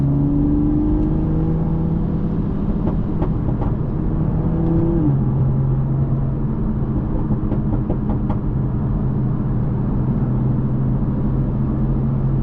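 A 2020 Toyota Supra with a maxed-out burble exhaust tune drones steadily from inside the cabin, with engine pitch shifting midway and a few brief pops and crackles scattered through, and no one talking.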